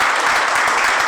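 Audience applause fills a counselling talk hall, a brief dense burst of many hands clapping at once, loud and even throughout.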